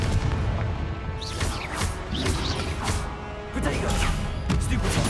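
A Confringo blasting spell goes off in Hogwarts Legacy, part of a magical duel. Several loud booming bursts arrive in an irregular sequence, with spoken voices mixed in among the explosions.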